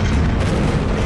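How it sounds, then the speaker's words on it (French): A loud, dense rumbling boom fills the whole moment as a gunshot brings down a structure in the GameCube Catwoman video game, a continuous crashing roar with no talk. "Il suffit juste d'un simple petit coup de feu"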